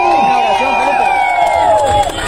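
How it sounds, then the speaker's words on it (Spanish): A crowd claps and cheers at a farewell gathering for Farruko Pop in Cobán, Guatemala, a loud close burst of applause and shouts mixed with voices, with a tonal announcer-like voice running over it. "Despidamos a Farruko con un fuerte aplauso."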